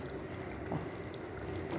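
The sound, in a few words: pouring first coconut milk into mango prawn curry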